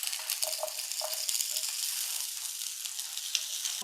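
Shallots sizzle in hot oil alongside fried chillies, a steady close hiss of frying with small pops and occasional stirring clinks.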